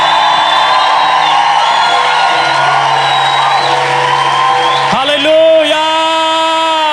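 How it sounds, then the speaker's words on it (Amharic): Church congregation at a worship service, a loud sustained crowd sound with high wavering voices, then a sharp change near the end to clearer held tones. "ደስ ያለው ሰው ካለ እልልታ ክብር ለጌታ ያመጣል።"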